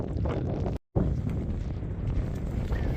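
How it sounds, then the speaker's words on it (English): Wind on a Scottish Highland ridge at Stob Coire nan Lochan in Glencoe buffets the microphone with a steady, dense roar, broken by one brief dropout. "Sorry about the wind, folks"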